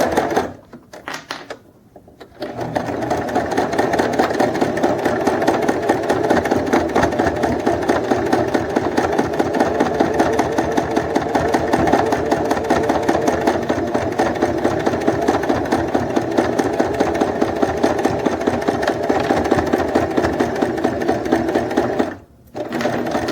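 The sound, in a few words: sewing machine stitching a delicate topstitch on a bag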